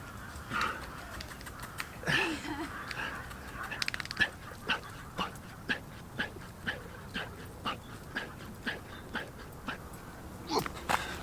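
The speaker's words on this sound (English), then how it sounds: "little doggies came to say hi" Small dogs whimper, pant and yip in short repeated bursts close by, a rhythmic string of soft whines with a brief human voice near the start.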